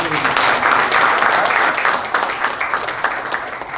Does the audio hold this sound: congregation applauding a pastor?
yes